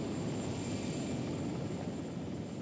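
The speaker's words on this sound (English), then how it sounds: "There's the helicopters ready to go." Helicopters idling on a base in the Vietnam strategy game Radio Commander, a steady, continuous engine and rotor drone holding at an even loudness throughout with no talk.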